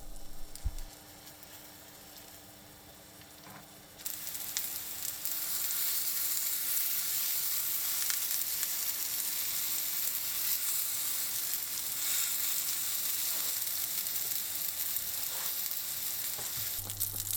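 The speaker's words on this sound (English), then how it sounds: "Heat some solid oil in a pan over low heat and add the tsukune balls" Chicken tsukune meatballs dropped into a pan of oil over low heat; after a quieter start, a steady, close, bright sizzle swells and holds evenly to the end.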